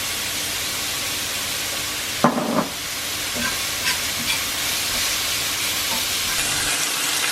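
Beans cook in plenty of oil with dried thyme in a pan, a steady loud hiss and crackle of sizzling with a few clanks of stirring partway through.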